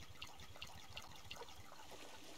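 Water trickles and splashes softly while plants are watered in the video game Subsistence, a faint, steady patter with regular small drips.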